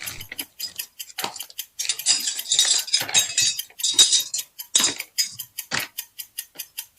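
Metal kitchen spatulas and ladles clink and clatter against each other in a fast, irregular run of bright ringing taps, close and loud, with no talk over them.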